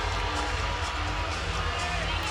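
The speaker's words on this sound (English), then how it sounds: "The crowd not taking lightly that they did not give Lily Hudson the 10." Arena crowd noise fills a gymnastics meet in Coleman Coliseum, a steady roar of voices and low rumble sustained throughout, with murmured talk mixed in.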